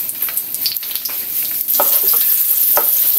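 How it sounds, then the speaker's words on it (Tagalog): Garlic, onion and ginger sauté in a pan, a close crackling sizzle with spatula taps, growing louder and denser partway through as more goes into the hot oil. "Dito sa same pan, dito na rin ako magigisa."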